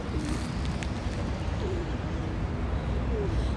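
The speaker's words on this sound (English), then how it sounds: "pigeons." Pigeons cooing in Central Park, New York City, with soft low coos repeating over a steady outdoor ambience of park noise and distant city hum.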